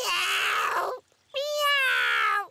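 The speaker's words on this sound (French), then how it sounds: "Oh, un chaton, le pauvre." A cartoon kitten gives two drawn-out, high, plaintive meows separated by a short pause, clear and close with nothing else heard.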